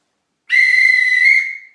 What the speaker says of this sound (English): My whistle's backwards.